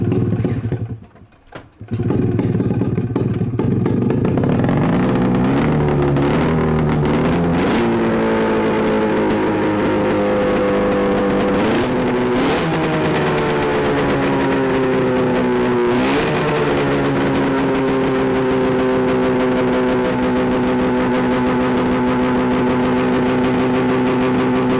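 A free 670cc two-stroke engine runs loud and close for a long stretch, rising and falling in pitch with several throttle changes after a brief dip near the start.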